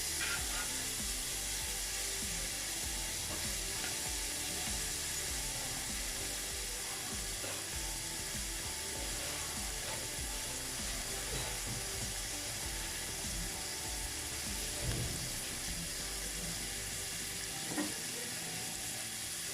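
Steady, dense sizzling and crackling of onions frying in hot oil in a pot, continuous and close, with an occasional faint clink near the end.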